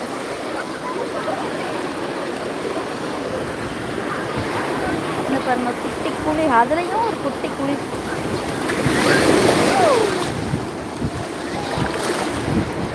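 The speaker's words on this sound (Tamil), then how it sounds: "கடல் மேலே நான் இருக்கேங்க" Sea waves wash around someone wading into the ocean at Tiruchendur, a continuous close surf rush mixed with heavy wind buffeting the microphone, swelling slightly near the end, while a person talks over it.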